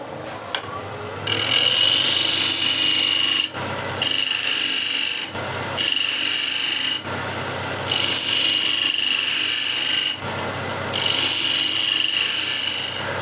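A wood-turning scraper cuts the outside of a wooden bowl spinning on a lathe, giving a loud, high whining scrape in repeated bursts of a few seconds each, separated by short pauses, with no voices.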